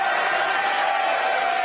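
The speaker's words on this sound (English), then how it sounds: "And you can tell by the cheering in the background" Mission-control staff cheer and clap as a SpaceX Falcon 9 first stage, Flight 38, lands on the Pacific Ocean drone ship: a continuous, even roar of crowd noise heard in the background.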